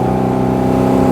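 An MG MGA classic roadster's engine accelerating through the gears, a steady rorty drone with strong harmonic layers, loud and close throughout a short burst.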